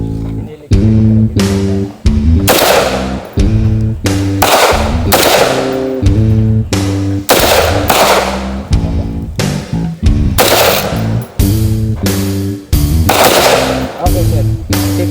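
Firearms fire during rescuer training in a long series of loud, sharp reports, roughly twenty shots at an uneven pace, close and echoing, with voices speaking between them.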